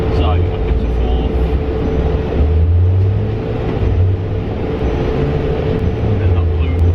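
Audi RS3 8P with a hybrid turbo, accelerating in fourth gear on a dyno, a loud steady low engine drone whose pitch shifts slightly, with a person talking over it.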